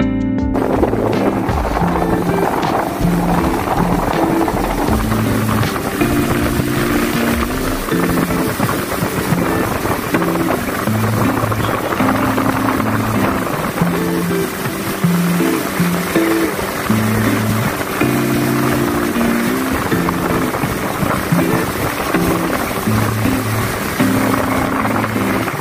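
Speedboat running across the open sea toward Dhalchar, a loud steady engine drone with rumbling hull thumps and heavy wind buffeting throughout, close and unbroken.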